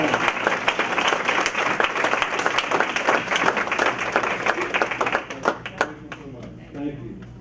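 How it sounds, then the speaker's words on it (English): Applause for a student at a school board meeting: a room full of people clapping steadily for several seconds, dense and close, then thinning to a few scattered claps at the end. "Let's give her one more round of applause."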